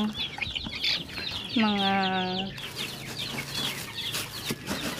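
Five-day-old backyard chicks peep and cheep in a busy chorus, with one hen-like drawn-out call rising above them briefly, while a voice speaks softly underneath.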